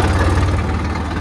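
A farm tractor engine runs close by in a steady, loud low rumble with no pauses.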